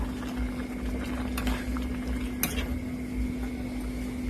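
Bamboo shoot curry boils steadily in a pot, a continuous low bubbling with occasional small pops, close and unbroken throughout.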